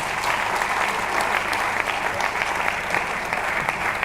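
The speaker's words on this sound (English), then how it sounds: "But please give Black Edge another resounding round of applause." An audience at the University of Lagos International Week opening ceremony applauds a performing group. The clapping is dense, loud and steady, and it fills the whole stretch without a break.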